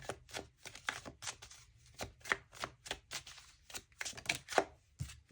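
Tarot cards are shuffled by hand, giving a rapid series of crisp riffling and slapping bursts at close range and moderate volume, with no talking.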